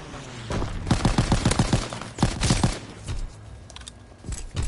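Rapid bursts of strafing gunfire from a fighter pilot airstrike in a first-person shooter video game, loud and close, with dense rhythmic volleys repeating in quick clusters and no talk over them.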